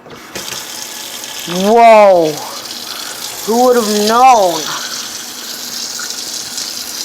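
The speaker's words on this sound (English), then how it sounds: "Let's see how the water works." A tap runs steadily, giving a continuous hiss of flowing water while a person speaks briefly over it in exclamations.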